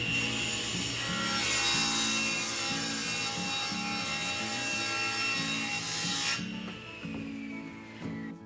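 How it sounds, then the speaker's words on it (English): A bandsaw cuts through pre-finished plywood for the sides of a wheel chock, a steady loud whine and rasp lasting several seconds before the cut ends and the motor sound drops. "I put it on my bandsaw"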